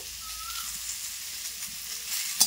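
Mango pieces with salt and turmeric sizzle in a hot pan for mango jelly chutney, a soft steady frying hiss with faint scraping of a spoon and a brief sharp clink near the end.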